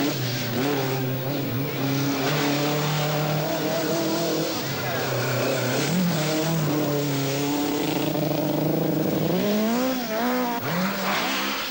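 Brand-new Toyota Celica rally car on a closed-road special stage of the 1982 Circuit of Ireland Rally, its engine straining and revving unevenly as it struggles for power, loud and continuous with pitch rising and falling; a voice talks over it.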